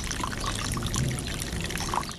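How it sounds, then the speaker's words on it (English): Sewage pouring out of overflowing drains into a yard and street, a steady rushing trickle of liquid heard close and continuous without talk. "The drains continue to spew out sewage,"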